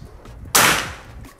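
A single sharp report from a PCP Marauder Bulldog V2 air rifle, a loud crack that fades quickly, with faint background noise before it and no talking.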